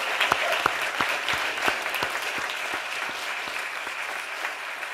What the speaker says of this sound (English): And how about another round of applause for our distinguished panel this evening?